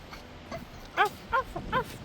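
A dog whimpers in a few short, high, whining bursts spaced about half a second apart, close by and fairly quiet, with no talking.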